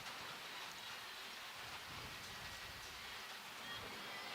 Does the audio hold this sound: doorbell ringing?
no